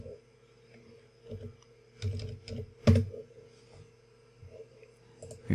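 Typing on a computer keyboard while entering a customer name into a sales order form: a soft, close run of irregular key clicks with a brief flurry in the middle.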